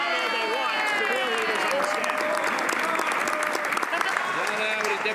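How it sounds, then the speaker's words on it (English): New Democrat MPs applaud in the House of Commons during Question Period, a dense, steady clapping from a crowded chamber lasting throughout, with a voice talking over it. "it's only New Democrats who are applauding"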